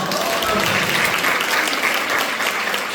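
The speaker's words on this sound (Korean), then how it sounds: "박수 한번 주시세요." Congregation at a Wednesday church service gives a steady, dense round of applause, loud and continuous from start to end.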